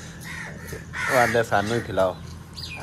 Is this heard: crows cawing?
yes